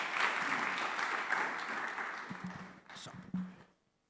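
Audience applause at a community dialogue event, a broad wash of clapping from a crowd that holds steady for several seconds, then thins into scattered claps before stopping, with faint murmuring underneath.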